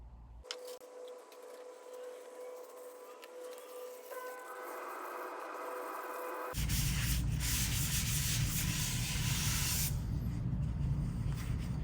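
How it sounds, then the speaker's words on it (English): Sandpaper rubs against a maple bowl spinning on a wood lathe, a soft steady hiss with the lathe's faint hum beneath, turning into a louder, coarser scratching rush partway through. "We're going to sand from 80 to 320"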